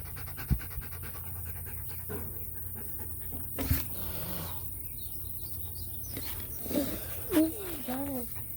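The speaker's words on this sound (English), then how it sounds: "Dogs." A dog pants in quick, rhythmic breaths, soft and close, while people talk quietly nearby.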